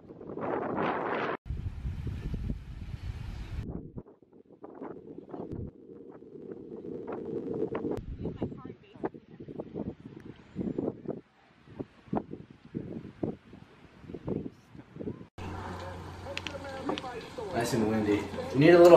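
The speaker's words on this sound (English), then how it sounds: "You probably can hear the wind in this video" Wind blows at a Cape Cod beach near Chatham, buffeting the microphone in rough gusts that come and go. People talk throughout, and the wind comes back strongly near the end.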